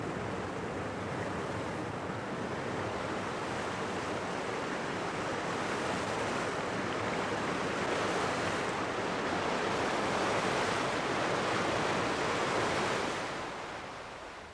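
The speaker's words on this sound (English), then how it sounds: "This is the sound you get all day in Keld, water, rushing water" The river at Keld rushes continuously in a dense, even roar of flowing water heard alone and close by, holding steady for a long stretch before easing slightly at the end.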